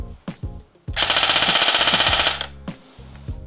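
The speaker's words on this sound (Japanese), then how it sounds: "いい音してるこの銃、すごい。" A KSC QRF mod.1 TEG electric airsoft gun fires a rapid full-auto burst of about a second and a half, loud and close, framed by single semi-auto shots and mechanical clicks before and after.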